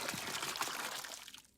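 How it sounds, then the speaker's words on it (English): Water splashes and pours into a model toilet to flush it, a bright gurgling rush that thins out and trails off after about a second. "if I flush this toilet by putting more water in"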